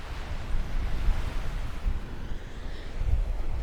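Sea waves wash onto the shore in a rolling outdoor surf, heard close with gusty wind buffeting the microphone and low swells rising and falling over several seconds.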